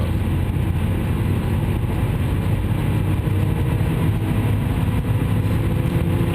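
A VW Touareg SUV's V10 TDI diesel engine rumbles loud and close in a steady, dense drone for the whole stretch, with no voices over it.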